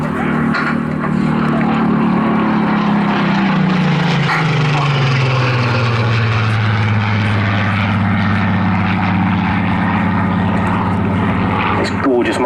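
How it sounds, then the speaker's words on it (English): A Spitfire Mk 19's Griffon propeller engine roars loudly and steadily at an airshow, its pitch sliding lower as it passes, with a voice talking over it. "You'll hear the power plant of the Griffen engine of this MK19 getting ready for the first of the fighter displays."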